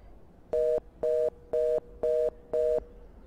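In the video game Miazma Or The Devil's Stone, a telephone call tone beeps five times in an even rhythm. Each short dual-tone pulse is followed by a brief silence, and the beeps are clear and alone.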